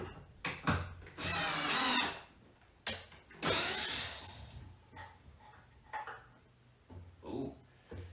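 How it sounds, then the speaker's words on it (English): Screws being driven into a wooden pub table top, with several bursts of a power driver whirring and biting into the wood, pausing between runs, close and fairly loud. "Let's screw it in, see what happens."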